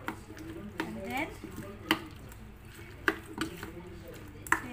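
Chopped onion and potato cubes being stirred into pakora batter in a bowl, soft wet squelching with periodic sharp clicks of the spoon against the bowl, close and fairly quiet under a voice.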